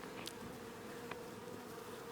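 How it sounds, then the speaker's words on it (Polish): Honey bees clustered in the grass in front of the hives give off a soft, continuous buzzing hum, faint and close, with a few brief louder passes. "kiedy zauważyłem przed ulami w trawie kubkę pszczół"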